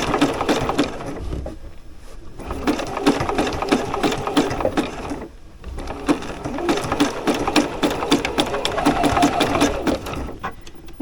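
A home sewing machine stitches through fabric in two long runs with a brief stop between them, its rapid needle chatter loud and close with no talking over it.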